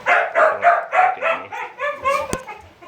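Pomsky puppies bark close by in a quick run of about eight high, yappy barks, the last ones rising into shriller yips.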